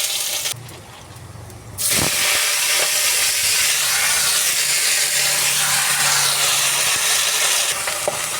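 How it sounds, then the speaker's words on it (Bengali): Dried chillies, bay leaves and five-spice tempering hit hot oil in a pan with a sudden loud burst of sizzling, a broad steady hiss that continues strongly after a brief quieter moment. "আমার তেলটা গরম হয়ে গেছে। এখন শুকনো মরিচ, তেজপাতা আর দিয়ে দিচ্ছি 5 ফোড়ন"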